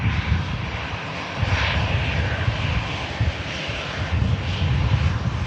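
A Helvetic airliner taxis at the airport, and its aircraft engines drone steadily at a fairly loud level throughout with no speech.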